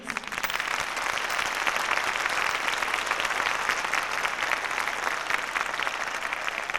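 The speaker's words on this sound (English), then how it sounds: "let's just give Ms. Prince a round of applause, please" Sustained, dense applause fills a hall at an honor society ceremony, a loud crowd clapping steadily for about seven seconds.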